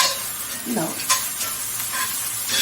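Garlic, ginger and onions sautéing in hot oil get a quick stir, giving a steady close sizzle with a short scrape of the utensil across the pan, no voices.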